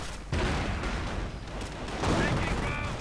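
Gunfire crackles in a war strategy video game as an anti-tank gun crew comes under fire, with short bursts and rattling shots mixed under a commentator's voice.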